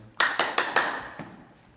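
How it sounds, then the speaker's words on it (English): Four sharp hand claps in quick succession, close and clear, during a school PE hand-eye coordination ball-catching drill, followed by a fainter fifth tap as the ball is caught. "See if I can get 4 claps in now."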